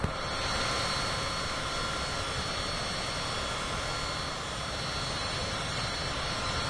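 Aircraft engine in Microsoft Flight Simulator 2024 on PS5, a loud, constant broadband roar of engine and airflow that holds steady throughout with no talk.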